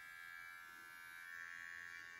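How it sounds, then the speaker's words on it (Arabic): An electric razor buzzes steadily while shaving body hair, a faint continuous high-pitched hum lasting a couple of seconds with no voices. "هي بدنا نحلق"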